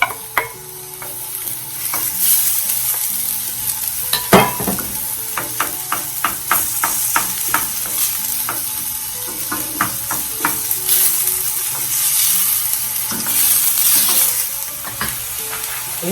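A medium-sized onion sizzles in a hot pan, a loud sustained frying hiss broken by repeated utensil clinks and scrapes against the pan, close and without speech.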